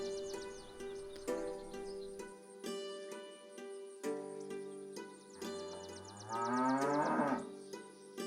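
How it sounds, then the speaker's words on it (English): Cattle in the video game Milkmaid of the Milky Way let out impatient moos from a shed, several long low calls overlapping a bright musical backdrop with chiming tones. "I heard impatient mooing from the shed."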